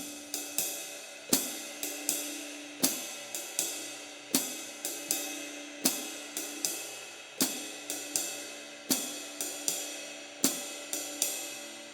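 Jazz drum comping pattern on a kit, a ride cymbal rhythm with accented swung hits and the hi-hat on 2 and 4, steady repeating phrases, clear and moderately quiet with no voices.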